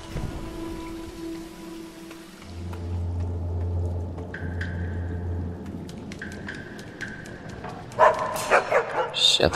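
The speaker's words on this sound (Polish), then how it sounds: "cholerny pies." Dogs bark in the video game Assassin's Creed Chronicles: China, sharp yips and barks bursting out near the end over rain-like ambience and game sounds, with someone talking throughout.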